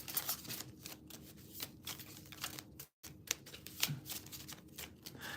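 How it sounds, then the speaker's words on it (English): Tarot cards being shuffled for a zodiac reading, a continuous close riffling and flicking that pauses briefly partway through and then resumes, with no voices. "I forgot what I was shuffling for."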